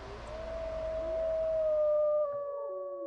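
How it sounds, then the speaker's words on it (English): A long, sustained howl that slowly slides in pitch and fades away, sounding like wolves in the distance over a low rumble. "of what you think might be wolves approaching your wagon train"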